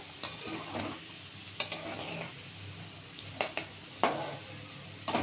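Bitter gourd slices fry in oil with a steady sizzle from a pan, interrupted by several sharp clinks and scrapes of a utensil stirring, with no talking.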